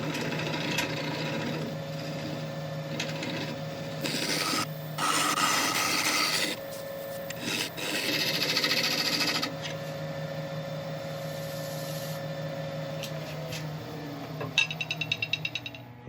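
A scraper tool cuts into an uncut wood burl spinning on a lathe, giving a steady raspy scraping under the motor hum, with louder bursts of cutting and a few sharp clicks near the end.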